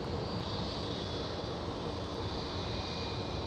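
A Delta Airlines jet departing from Amsterdam Schiphol produces a continuous, fairly distant engine roar with a thin high whine running through it, steady and unbroken over a few seconds.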